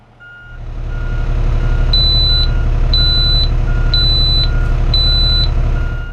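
Refuse truck reversing with steady rhythmic backup beeps, about four to five evenly spaced tones over a loud, constant diesel engine rumble, close by.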